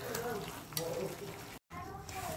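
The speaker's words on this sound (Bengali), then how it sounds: "সব ফুলকপিগুলো দিয়ে আমি ভালো করে নাড়িয়ে চাড়িয়ে নিচ্ছি, গ্রেভির সাথে মিশিয়ে নিলাম।" Cauliflower manchurian stirred through thick gravy in a pan, a soft continuous sizzle with scraping strokes, broken by a brief moment of silence.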